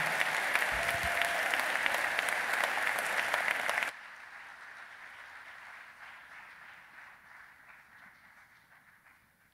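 Audience applause for a chamber choir at a Veterans Day program, a dense, steady clapping that cuts off abruptly partway through and leaves a fading room tail.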